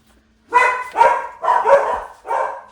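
Household dogs bark loudly and close by, four or five sharp, rapid barks in a row with short gaps, set off by someone arriving indoors, with no talking.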